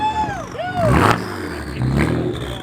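BMW car revving hard at a two-step launch contest during a car meet, engine note rising and falling in quick bursts, close and loud, with voices talking over it.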